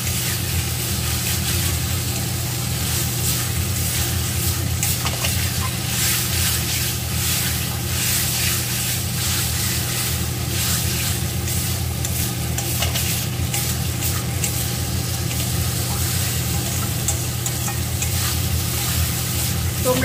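Kalo jeera (nigella) spice paste for a thin rohu fish curry sizzles and fries in a pan while being stirred, a continuous loud hiss with scraping stir strokes and a steady low hum behind it.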